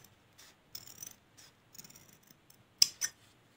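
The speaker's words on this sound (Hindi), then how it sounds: "कपड़े को सबसे पहले ऐसे हम फोल्ड कर लेंगे फोल्ड करने के बाद हम इसको कटिंग करेंगे" Scissors snipping through folded cloth for an appliqué bed sheet, a series of quiet, close crisp cuts in short bursts, ending with two sharper snips.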